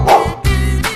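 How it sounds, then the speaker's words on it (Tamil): Two or three short, loud barks from a dog close by, coming in quick succession. "நாய்."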